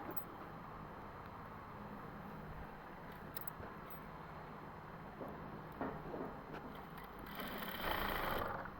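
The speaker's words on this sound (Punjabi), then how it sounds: "ਫਿਰ ਇਹਦੇ ਤੇ ਆਪਾਂ ਸਲਾਈ ਲਾਵਾਂਗੇ" A sewing machine hums steadily while stitching gota lace onto a dupatta, a continuous mechanical whir at moderate level that grows a bit louder near the end, with no voices.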